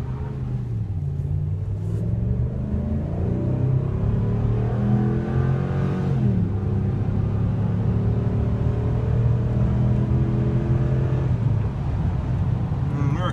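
A Nissan Altima accelerates hard from a standstill to 70, its engine droning steadily with a rising, revving tone and constant road rumble.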